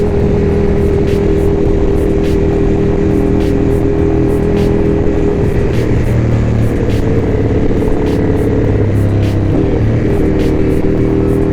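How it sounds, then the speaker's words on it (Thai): A loud, steady engine drone from a V4 S with a Termignoni exhaust, raspy in tone, holding a constant pitch with slight wavering and regular faint ticking over it, and no voices. "เอาจริงนะเสียงท่อตรงนี้เป็นท่อที่ผมชอบมากนะครับ"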